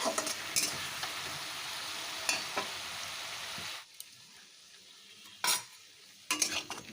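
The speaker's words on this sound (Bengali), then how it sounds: "এখন এর মধ্যে দিয়ে দিলাম টমেটো পিউরিটা এখন টমেটোটাকে একটু কষিয়ে নেবো" Tomato puree fried with tempered spices in a pan sizzles softly while a utensil stirs and scrapes. The steady hiss drops away halfway, then a few short clinks and scrapes follow, all quiet with no talking.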